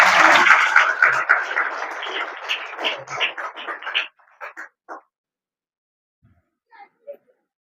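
Loud applause from a congregation at a church consecration, dense clapping that thins out into a few scattered, separate claps before fading to near silence with faint sounds at the end.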